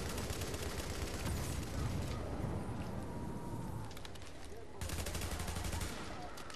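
Dense, rapid gunfire crackling almost without pause in The Division, bursts of rifle and machine-gun shots, loud and close, briefly thinning before another heavy volley.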